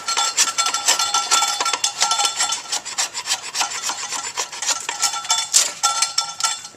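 Draw knife shaving a wooden bow stave down to a single growth ring, a close, steady run of raspy scraping strokes repeating rhythmically without pause, loud and dry with no voices over it.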